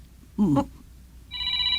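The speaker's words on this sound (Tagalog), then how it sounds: "may tumatawag sa cellphone nyo." A cellphone ringing with an incoming call in a home: a brief spoken voice comes first, then the phone's electronic ringtone begins, a steady bright tone sounding close and clear.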